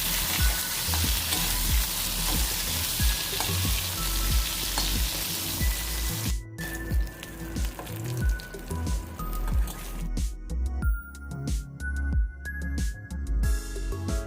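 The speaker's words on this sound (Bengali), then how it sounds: "এবার বেগুনগুলো আমি ভেজে নেব" Eggplant (brinjal) pieces fry in hot oil in a kadai, with a loud, dense, continuous sizzle and crackle and the scrape of stirring, close up, with no talking.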